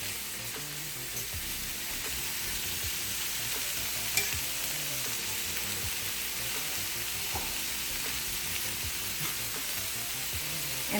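White mushrooms saute in a pan, giving a steady, close sizzle with occasional stirring scrapes and small pops over the full stretch, with no talking.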